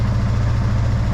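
Husqvarna 572XP chainsaw idling steadily right after start-up, a continuous close, loud throbbing engine note with no cutting and no voices over it.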